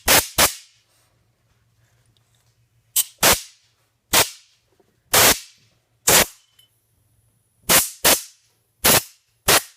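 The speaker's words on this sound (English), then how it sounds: "I'm just going to use a little compressed air to kind of blow that alcohol out of there" Compressed air blown through a Glock pistol slide to clear cleaning alcohol from the firing pin area: about ten sharp, loud hissing blasts close by, spaced by short quiet gaps, with no talking.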